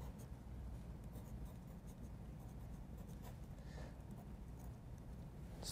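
Pencil writing on a surface during a lecture on duality, a faint continuous scratching with small strokes over a low room hum.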